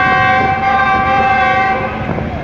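A loud, sustained horn from a GU40 diesel locomotive blares nearby, layered over the rumble of its passing coal hopper freight train near Drig Road station.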